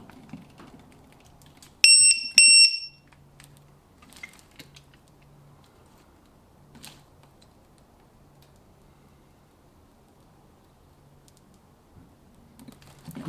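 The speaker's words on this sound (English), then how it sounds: "this little beeper on this thing is really, really loud" A LiPo battery tester gives two sharp, loud, high beeps in quick succession, followed by quiet rustling and faint handling noises in a still room.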